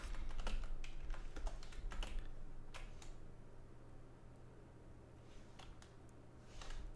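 Keys clatter on a computer keyboard in quick irregular bursts, close but quiet, with short pauses between runs of typing over a faint steady hum.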